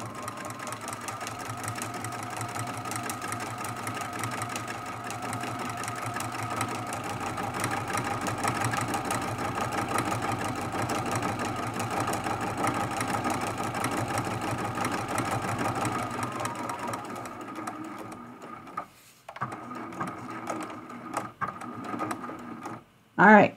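A sewing machine stitches a 20 by 20 inch art quilt in a fast, steady whir that runs unbroken for most of the stretch, then stops and gives way to handling noises and a brief voice.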